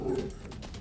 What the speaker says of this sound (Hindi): नजदीक मत जाइए सर, आपको भी देखकर ये भौंक रहा है।